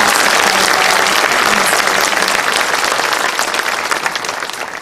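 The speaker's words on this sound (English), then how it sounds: "If you would join me in giving the Navy ROTC another round of applause." Loud, dense applause from a dinner audience honoring Navy ROTC cadets at a congressional dinner, a full crowd clapping steadily before tapering off toward the end.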